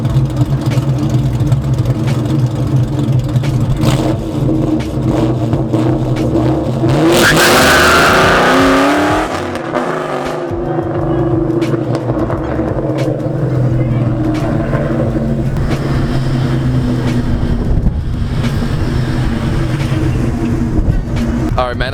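A Ford Mustang GT with a PI swap, Comp 262 cams and SLP LoudMouth exhaust rumbles at a loud idle, then revs hard in a sharp roar near the middle, settling back to a lumpy burble while voices talk over it.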